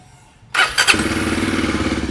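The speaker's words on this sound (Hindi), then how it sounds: "मोस्ट प्रोबेबली अगर मैं बाइक स्टार्ट करूँ," A Royal Enfield Himalayan motorcycle engine cranks and fires, then settles into a close, steady thumping idle.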